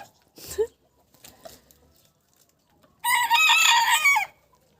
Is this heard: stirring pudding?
no